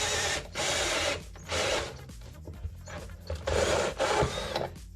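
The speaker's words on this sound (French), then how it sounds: "je vais un petit peu percer dans mon plan de travail" A power drill bores into a worn workbench top in about five loud whirring bursts, each roughly half a second to a second long, separated by short pauses. No one talks.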